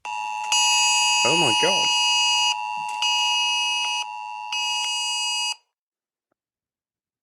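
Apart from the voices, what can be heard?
emergency wildfire alert sounding on mobile phones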